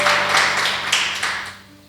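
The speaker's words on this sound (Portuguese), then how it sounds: "Dê ao nosso Pai uma linda salva de palmas." Church congregation applause during a fasting-service sermon, a burst of clapping that starts loud and gradually fades away over two seconds.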